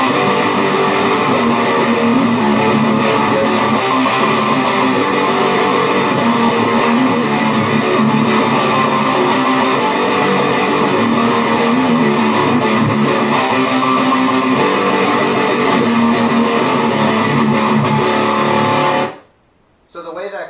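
A distorted electric guitar plays the chorus riff of a song for about nineteen seconds in a dense, continuous, loud wash of power chords that stops abruptly near the end.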